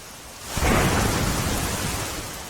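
Heavy rain pours down in Songadh, Tapi district, south Gujarat, a broad rushing roar that swells in quickly after a quieter start and stays dense and steady.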